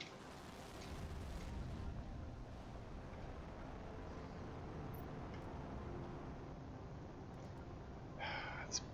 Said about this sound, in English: Fire off a rocket.